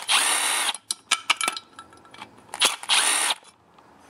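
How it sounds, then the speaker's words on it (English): Power driver backing out the torque screws holding the muffler on a Stihl MS260 chainsaw, two short loud whirring bursts bracketing a series of sharp metallic clicks and taps, close and without talk. "I'm also going to remove both torque screws here that hold the rest of the muffler on."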